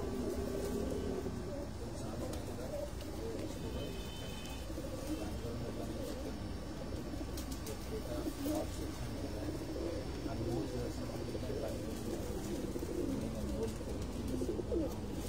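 Rooftop-kept pigeons coo in low, rolling phrases that run on throughout, close by, with faint human voices and general outdoor noise mixed in.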